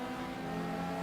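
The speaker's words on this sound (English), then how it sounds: "I hear a fast car behind me." Ferrari race car engine from the video game GTR2 at the 2003 Spa 24 Hours, holding a steady, loud, high-revving drone for about a second with no talking.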